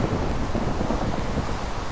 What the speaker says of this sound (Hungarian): Ilyenkor mindig elkezd esni az eső.